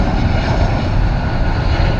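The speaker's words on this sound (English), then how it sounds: "Looks like a Airbus A319." An Airbus A319 jet rumbling at an airport, a steady dense engine roar with heavy low-end drone, continuous and fairly loud for two seconds.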